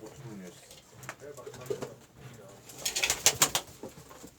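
Pigeons in a loft of black birds of one bloodline, with soft cooing and some wing rustles, growing busier and louder toward the end; a low voice murmurs in the background.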